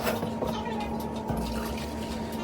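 Melted snow water is poured through a strainer to catch grass and dirt, a steady close pouring and dripping sound with a faint tonal hum underneath.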